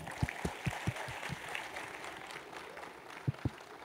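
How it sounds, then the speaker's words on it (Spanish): Scattered, fairly distant clapping rises from an audience at a Motorola Android conference talk, thinning out midway and ending with a couple of sharp individual claps. "Les pido un muy fuerte aplauso"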